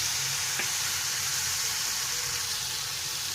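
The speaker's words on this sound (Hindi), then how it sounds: "सरसों को चटकने खत्म होने के बाद हम इसमें लहसुन पेस्ट डालेंगे।" Garlic paste sizzling in hot oil with mustard seeds for stuffed bitter gourd (karela bharwan), a steady loud frying hiss throughout with a faint stir or tap near the start.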